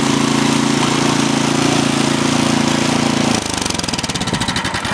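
A Troy-Bilt 2620 snow blower engine revs loud and close with its auger running. A steady high roar drops after about three seconds into a rougher, pulsing chug.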